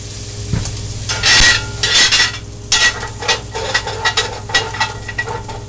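Sausage ends frying in a pan for country gravy, loud close sizzling broken by repeated scraping and stirring strokes of a utensil against the pan, no talking.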